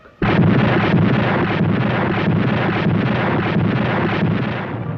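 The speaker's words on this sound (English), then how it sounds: "Her great guns created devastation ashore." Battleship USS New Jersey's naval guns fire in a sudden loud boom that swells into a sustained, thundering roar with pulsing bursts, heavy and close, slowly fading toward the end.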